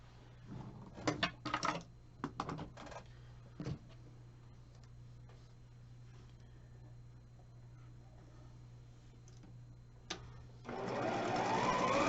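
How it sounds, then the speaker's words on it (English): A sewing machine stitches quarter-inch seams on quilt squares, quiet mechanical ticking with a few brief louder bursts early on, then a steady low hum before a louder whirring run at the end. "sew a 1/4 inch on either side of that line"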